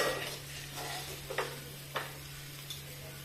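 Eggplant fry (vankaya fry) is stirred in a pan over a faint, low sizzle. Three or four distinct scraping strokes of a spoon sound against the pan, and a low steady hum sits underneath.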